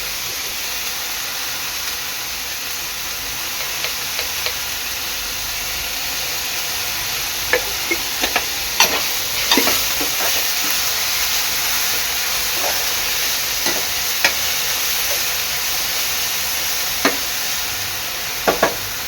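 Mung paratha filling being sautéed in a pan gives a steady hiss and sizzle with occasional sharp stirring clicks and scrapes, close and continuous, with no talk.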